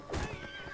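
Horse neighing in the medieval combat game Mount and Blade: Warband, a short whinny rising then trailing off, with faint hoof sounds beneath, no voices.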